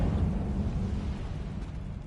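A fiery spell bursts in Hogwarts Legacy as a dense, roaring whoosh of flame, steady and full for about two seconds without a break.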